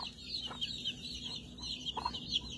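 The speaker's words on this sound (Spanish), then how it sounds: "lo de cocotó es por el pollito" Chicks cluck and cheep in a pen, short bright calls repeating irregularly close by over a low steady hum, with no talking.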